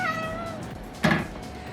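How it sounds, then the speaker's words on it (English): A small cat meows with a clear harmonic cry early on, then a louder, brighter meow near the end, heard in a home kitchen while cookies bake, with a soft room hum underneath. "Tiny cat."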